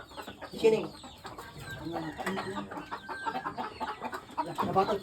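Chicken clucking in a rural setting, with short bursts of clucks recurring through the clip under people talking and other farmyard noise.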